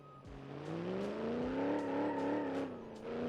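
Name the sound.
Dodge Ram truck engine driving in BeamNG Drive video game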